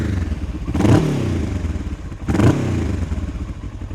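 A warm Kawasaki ER-6n motorcycle engine with about 100,000 km idles with a throbbing, uneven rumble, swelling in two short revs before settling back to a steady chug.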